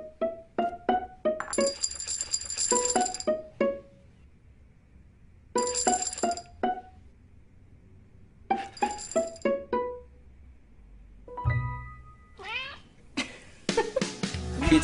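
Several cats meow in short bursts during a Meow Mix cat food commercial, with light glassy clinks and a few chime-like tones near the end.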